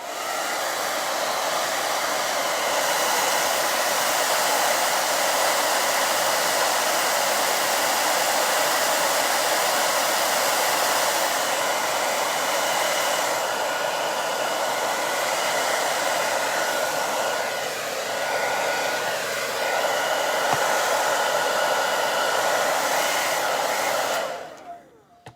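A hair dryer blowing on a coat of black paint on a Dollar Tree cutting board, a loud continuous close whoosh with steady pitch for about 24 seconds, then switched off at the end.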